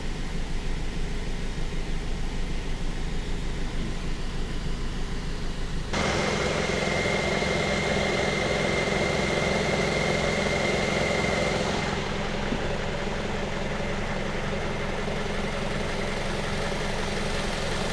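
A 2010 Mazda 3 engine idles while warming up, a steady low rumble with constant hiss, the tone shifting slightly at two points but staying even and unbroken throughout.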